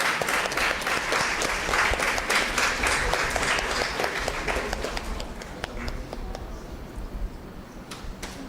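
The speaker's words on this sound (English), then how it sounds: "May we all have a huge round of applause for sir." A conference hall audience gives a loud, sustained round of applause for an honoured guest at a university national conference, dense clapping that gradually thins and fades toward the end, with a few scattered claps trailing off.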